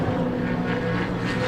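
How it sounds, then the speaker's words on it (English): Porsche 911 race car engine revving in a short throttle blip at Silverstone during a Grand Prix meeting, a loud steady mechanical drone with a strong tonal hum filling the brief moment. "Angry blip of the throttle there for Marcus Clutton"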